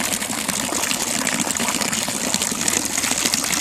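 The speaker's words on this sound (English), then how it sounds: "So this is water being pumped from the pond." Pond water pumped by a ram pump gushes steadily into a fish tank, a continuous close splashing pour with no pauses.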